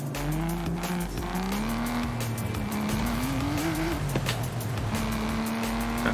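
Forza Horizon 5 car engine burbling around 5,000 RPM, its pitch rising and falling through gear changes, with tire squeal mixed in, loud and continuous.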